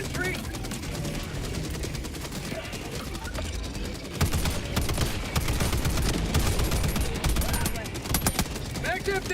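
Heavy, continuous automatic gunfire in Helldivers 2, loud rapid bursts layered with explosions and battle clatter for the full stretch, with a voice speaking over it at moments.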